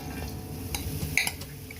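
Bitter gourd is stirred in a hot, dry pan with no oil, giving soft scraping and a few bright metallic clinks of a spoon against the pan, close and fairly quiet.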